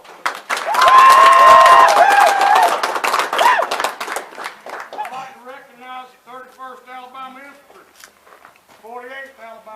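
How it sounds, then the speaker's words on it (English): A crowd at a Civil War reenactment event, the Battle of Brierfield 2019, breaks into loud applause and some cheering that fades after a few seconds, followed by someone speaking over a PA. "Give them a round of applause."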